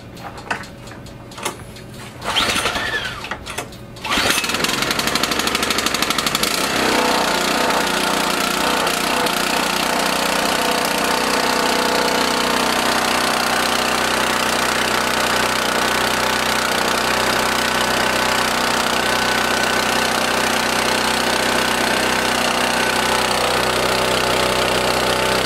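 A car engine running on 87 octane gasoline, with a rough, uneven start that settles into a steady, loud, continuous drone for most of the stretch.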